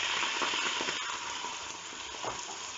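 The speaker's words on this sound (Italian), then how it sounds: "Sfumiamo con un goccino di vino" Shrimp sizzles loudly in a hot pan as a splash of wine is added, producing a steady bright hiss and steamy frying crackle.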